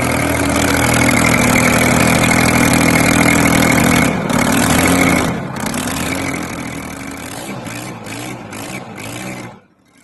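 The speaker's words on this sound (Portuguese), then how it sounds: "Ali é o motor diesel Detroit, General Motors Detroit Diesel. Motor ciclo 2 tempos." General Motors Detroit Diesel two-stroke diesel engine running with a loud, steady, dense drone and a buzzy two-stroke texture, dipping in level midway and then shutting down abruptly at the end.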